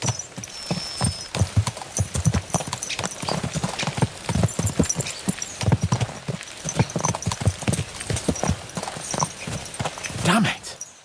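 Horses gallop in Kingdom Come Deliverance 2, their hooves clip-clopping in a fast, steady rhythm at moderate volume with a brief whinny near the end, while voices talk over the hoofbeats.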